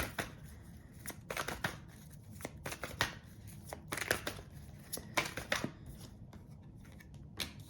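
Tarot cards shuffled by hand in quick, crisp bursts of riffling and slapping, with short pauses between flurries, close and moderately quiet.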